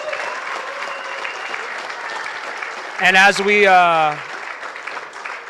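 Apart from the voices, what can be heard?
applause at city council meeting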